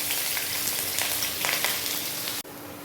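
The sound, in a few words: sliced onion frying in oil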